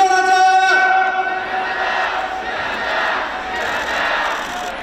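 A huge crowd of about 35,000 citizens roars and shouts together at a climate justice rally on the road outside Seoul City Hall, a dense, loud wash of voices opening with a single prominent chanting voice.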